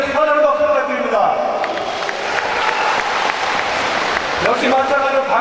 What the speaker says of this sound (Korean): 우리 이상직 직능위원장께도 커다란 박수 부탁드립니다